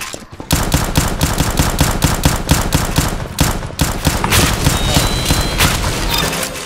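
Rapid automatic gunfire from the Roblox shooter game Arsenal, loud and continuous with dense bursts of repeated shots, no talking.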